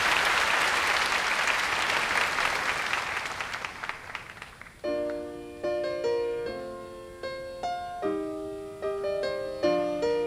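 A crowd claps loudly for several seconds during a Korean church worship service, fading out as soft keyboard notes begin playing a slow melody.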